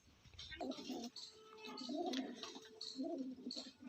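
Pigeons at a loft coo in repeated soft, throaty bursts close by, several overlapping calls across a few seconds with brief pauses between them.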